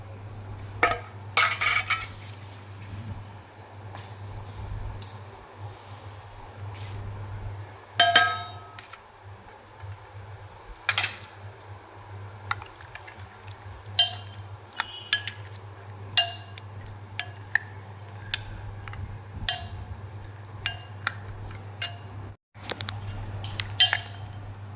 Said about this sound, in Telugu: కరుగుతుంది బెల్లం, అందుకనే తిప్పుతున్నాను అనమాట.